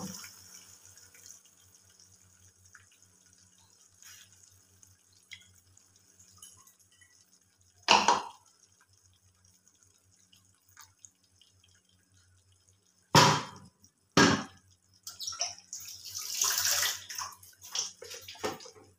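Water poured into a thick fish curry gravy on a gas stove, heard as a few short splashing bursts separated by quiet, ending in a longer trickling pour.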